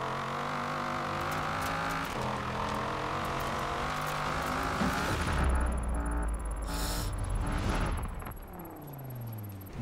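A Lamborghini racing in Forza Horizon 4, engine droning and revving up through gears close by, then a sharp shift and fading whine, no talk.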